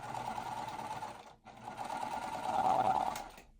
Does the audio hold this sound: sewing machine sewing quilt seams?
yes